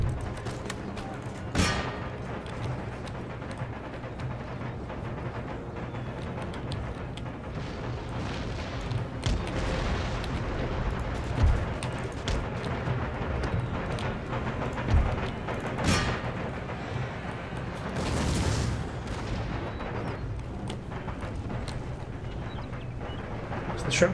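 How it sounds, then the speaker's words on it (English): Artillery firing shrapnel shot in the Napoleonic-era strategy game Empire Total War, with scattered distant booms and crackling volleys over a constant battlefield din, several louder thumps standing out. "So let's get the shrapnel shot going."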